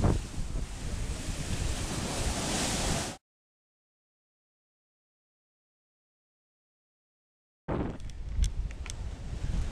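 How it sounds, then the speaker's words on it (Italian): Wind buffets the microphone with a broad roar of surf at the seaside in Livorno, breaking off into total silence midway before the blustery noise resumes with faint clicks. "siamo al mare, siamo a Livorno"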